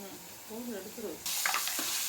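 Dried neymeen fish is sautéed in oil. A low voice murmurs briefly, then a bright sizzle bursts in abruptly and keeps hissing to the end.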